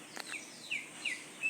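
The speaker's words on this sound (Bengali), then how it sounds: "এই যে ময়না চোর শালিক," A myna bird gives a few short, bright chirping calls in quick succession, clear and fairly close against a quiet background.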